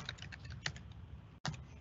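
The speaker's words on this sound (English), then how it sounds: "type in" Rapid keystrokes on a computer keyboard while typing a short email reply, a steady run of close, soft clicks with a few louder taps and a brief pause near the end.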